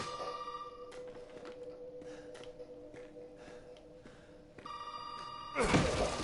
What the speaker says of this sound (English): The phone rings the second you get the basement key.